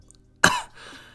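A single harsh cough bursts out, short and close, then trails off into a low rasp, as a wounded man coughs up blood.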